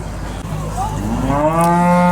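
Cattle on a suburban smallholding letting out a single loud, close moo that swells and holds steady, with a low rumbling start rising into a sustained tonal call.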